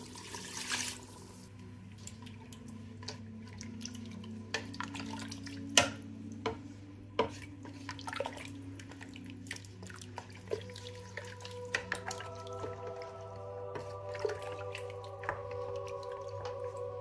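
Water poured into a pot while making chana dal gosht in a home kitchen, a steady low liquid rush with scattered drips and clinks of utensils over a constant background hum.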